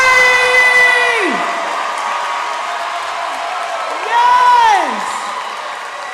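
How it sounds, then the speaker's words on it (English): At a 2023 high school commencement in Youngstown, a graduation crowd applauds and cheers for the class of 2023, with rising and falling whoops and a loud shout over steady clapping. "How about one more round of applause for the class of"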